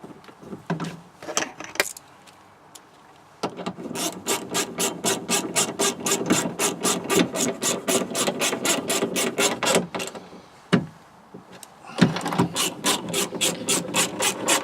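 Window regulator motor bolts are tightened on a 2003 Chevrolet Monte Carlo, a close, rapid ratcheting clicks in long even runs, broken by short pauses and a final burst.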